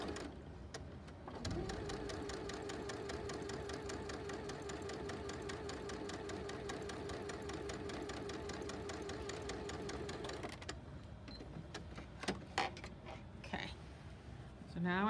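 A sewing machine fitted with an HP foot runs in a steady, even stitching whir for about ten seconds while sewing a quarter-inch quilt seam, then stops, leaving light handling clicks and rustles.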